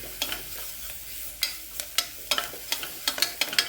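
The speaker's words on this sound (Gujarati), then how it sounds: "એને સરસ સાંતળી લેવાનું છે, અને લસણ અને મરચાંની પેસ્ટ છે એ નાખી દીધી" Garlic and chili paste sautéing in a pan, a soft steady sizzle broken by sharp scraping stirs that tick through repeatedly, close and moderately loud, with no talking.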